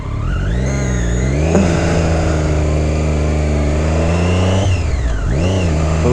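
Triumph Daytona 675 R three-cylinder sport motorcycle engine revving hard, loud and close, with rising and falling pitch sweeps and a brief drop and sharp rise near the end, no talk.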